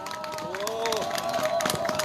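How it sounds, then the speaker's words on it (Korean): A crowd at a candlelight rally applauds and cheers to welcome a speaker, steady clapping mixed with crowd noise and scattered voices, loud and continuous over the short span. "큰 박수로 모시겠습니다"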